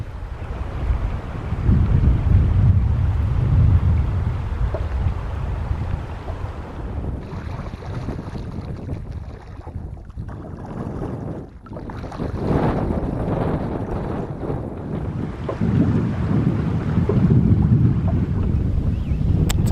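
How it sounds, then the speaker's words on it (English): Strong wind buffeting the microphone in heavy low rumbling gusts, easing briefly midway before roaring back, with no voices. "A bit windy, as I'm sure you can hear"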